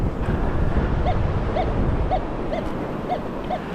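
Surf and wind on a beach where a metal detector is being swept, a steady broadband wash of waves with wind buffeting the microphone, and a faint repeating chirp at regular intervals over the top.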